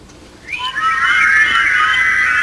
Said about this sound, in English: And now whistle.